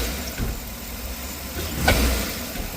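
A truck engine runs at a steady idle, a low continuous rumble close by with no voices over it.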